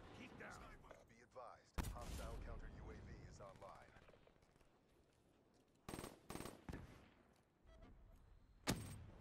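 Video game gunfire bursts out in short rapid-fire volleys, loud sharp cracks in several clusters, with excited talk running between and under the shots.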